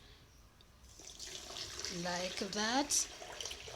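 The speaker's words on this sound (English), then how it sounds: "You add water to these powders" Water runs into a container of powders while homemade household bleach is being mixed, a steady close splashing pour that swells toward the end, heard under a short spoken phrase.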